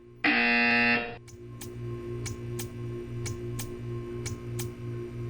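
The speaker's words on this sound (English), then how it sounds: "You will hear a buzzer. When you hear the buzzer, stare at the art." A harsh electronic buzzer in the Portal 2 video game blares loudly for about a second, then gives way to a steady rhythmic ticking over a low hum.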